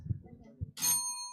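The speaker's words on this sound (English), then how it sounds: "Who rang the bell?" A bicycle-style bell rings once during a classroom science quiz, bright and fairly loud, its tone lingering after a few muffled bits of voice just before it.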